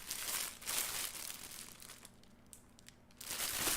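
A plastic bag holding a t-shirt crinkles and rustles in close, irregular bursts as it is opened during an unboxing, with a quieter pause in the middle before the crackling picks up again.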